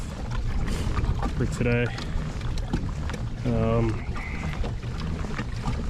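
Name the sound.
wind blowing over water on a boat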